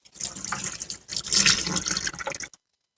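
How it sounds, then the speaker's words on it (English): Water and floating debris poured off soaked seeds during water winnowing, a steady close splashing pour for a couple of seconds that stops abruptly, followed by a few faint drips. "So just pour that stuff off."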